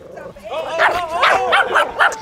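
Short, high-pitched dog yips and whimpering barks come in quick bursts over a couple of seconds, close by, with people's voices mixed underneath.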